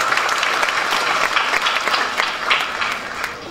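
A crowd at an Islamic religious lecture applauds local residents, a dense, continuous burst of clapping that is loud and close, with no talk over it.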